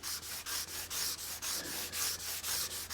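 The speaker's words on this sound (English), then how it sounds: "I'm going to take some sandpaper in a sanding block, and it's just 320 grit sandpaper." A sanding block wrapped in 320 grit sandpaper rasps along the edges of a guitar fretboard, about a dozen close, even back-and-forth strokes in a brisk steady rhythm, with no talking.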